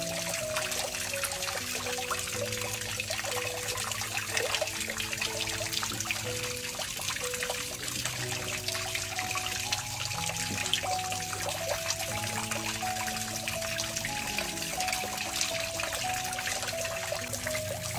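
Water is poured over an orchid potted in sphagnum moss, a steady trickling wash lasting throughout with tonal background music running underneath.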